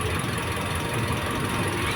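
A Toyota Vios dual VVT-i idles with its newly replaced radiator fan motor running, giving a steady, even whir and hum over a low engine rumble that holds constant throughout.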